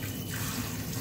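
Tap water running steadily into a kitchen sink while ham pieces for pea soup are rinsed, a continuous close splashing hiss with no talk over it.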